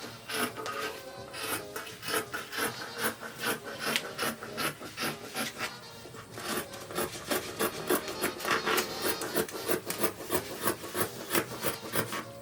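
Fabric pattern pieces are cut out freehand, giving a close, repeated rasping and scraping rhythm of blades working through cloth on a table, steady strokes with short pauses and no talk.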